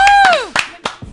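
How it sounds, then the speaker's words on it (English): Radio sports show studio: a falling whistle-like tone gives way to a few sharp bursts of clapping and cheering, loud and close, in short uneven bursts. "Y'all should give me an applause for that"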